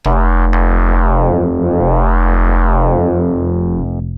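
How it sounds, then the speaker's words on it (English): A loud, sustained synthesizer sine wave run through a wave folder, its harmonics sweeping down and up in smooth waves, giving a rich, shifting, folded timbre. "What a wave folder does, it takes that sine wave"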